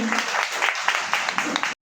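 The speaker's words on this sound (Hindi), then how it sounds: "बहुत तालियां सुनिए" An audience in Ahmedabad bursts into brief applause at a product event, a short, full spell of clapping that stops abruptly after under two seconds.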